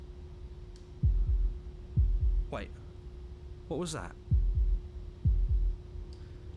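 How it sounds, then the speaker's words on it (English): A heartbeat sound effect from the video game Slay the Princess, slow low double thumps repeating about once a second over a steady hum, with a voice speaking briefly between the beats. "That was the sound of a heartbeat, followed by another, and another."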